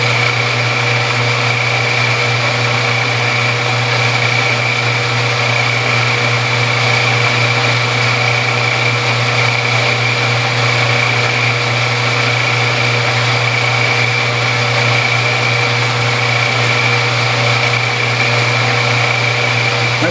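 A machine runs steadily while a graver tool cuts a chamfer, giving a constant, loud motor whine with steady tonal hum and no pauses, with no voices.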